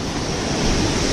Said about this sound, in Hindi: नीचे झरना बह रहा है